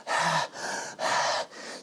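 A voice imitates Janis Joplin panting into a microphone: four close, loud breathy gasps in an even in-out rhythm, heavy and rasping, with no words.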